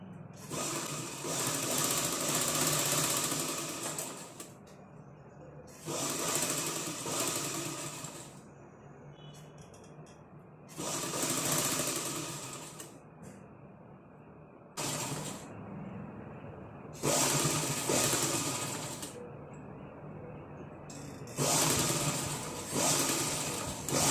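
A sewing machine stitches a piping strip onto a blouse, running in five loud close bursts of rapid whirring with short pauses between them.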